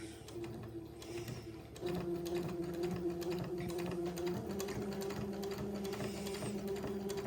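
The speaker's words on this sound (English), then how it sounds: "I'm going to go kind of slow so that I can maintain control of the line that I'm sewing." A sewing machine runs slowly and steadily, stitching along a fabric fold with a continuous close mechanical hum and whir, fairly quiet and without talk.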